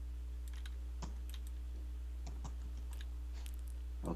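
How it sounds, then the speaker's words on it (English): Light keystrokes on a computer keyboard click irregularly and softly over a constant low electrical hum, during a Minecraft game. "And then type in Ender."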